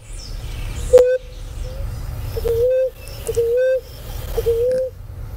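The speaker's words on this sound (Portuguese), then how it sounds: "Rolinha de asa canela." Plain-breasted ground dove (rolinha de asa canela) calling, a series of short, clear, repeated coos with brief gaps between them, close and fairly loud over faint background noise.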